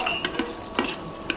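Dried fish curry stirred in a pan with a little water as it fries down; a few scraping stir strokes over a soft, quiet sizzle, close by, with no talk.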